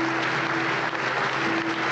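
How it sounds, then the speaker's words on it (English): Stadium crowd at a Premier League match between Sheffield United and Newcastle United joins in a minute's applause, a steady distant roar of massed clapping with a faint sustained tone running through it. "spectators in the home and away areas joining in with a minute's applause"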